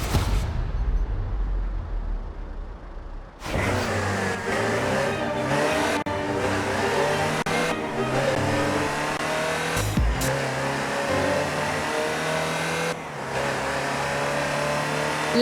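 The Land Rover Type 3 in Forza Horizon 4 drives with a loud, continuous engine drone, revving and shifting through gears with brief breaks in the pull, and no talk over it.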